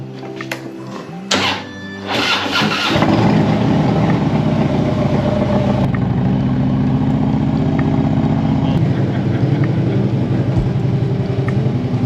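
A Harley-Davidson motorcycle engine, after a few sharp mechanical thunks, starts up and runs at a steady, loud, close-up idle, with its deep even rumble holding to the end.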